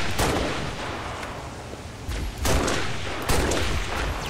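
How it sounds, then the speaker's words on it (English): Gunfire rings out in the video game Halo Reach: bursts of shots crack through a rumbling background, with sharper blasts standing out near the middle and later, moderately loud and with no talking. "Are they shooting at us?"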